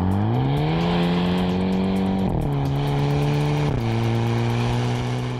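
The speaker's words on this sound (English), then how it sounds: "Rev matching downshifts are a thing." A Hyundai Kona N engine drones steadily, its pitch stepping down twice with brief rev-matching blips between downshifts, loud and close, no voices.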